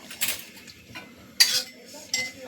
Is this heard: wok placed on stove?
yes